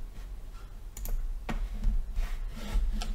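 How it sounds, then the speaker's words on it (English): Mouse and keyboard clicks come from someone setting up printer settings in the Cura 3D-printing slicer. Crisp, close taps and clicks sound in an uneven sequence over a low background hum. "I'm just clicking the printer settings away."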